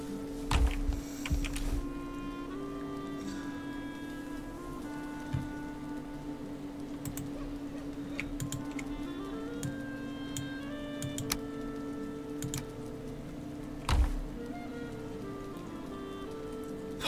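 Steady rainfall in the Valheim video game, a soft continuous patter with scattered drips and ticks over a low constant hum, faint throughout.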